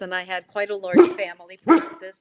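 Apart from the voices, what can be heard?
dog barking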